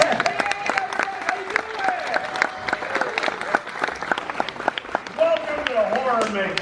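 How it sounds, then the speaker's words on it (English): Audience applause and cheering at a Universal Studios show welcoming the host, dense clapping mixed with crowd noise and overlapping voices, with a bright melodic tone sliding through toward the end. "how about a nice round of applause for the host of today's show"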